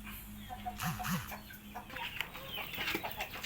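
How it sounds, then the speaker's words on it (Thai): Pradu Hang Dam chickens cluck close by in short, scattered calls, with faint rustling and farmyard background throughout. "สิพาไปให้อาหารไก่นะครับ"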